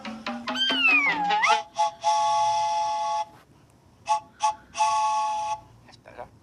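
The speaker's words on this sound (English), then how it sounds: "These are made by Acme for orchestras, orchestral three-tone whistles." An Acme orchestral three-tone whistle gives several loud, sustained chordal blasts: one long, two short, then another long, after a burst of sliding, warbling tones at the start.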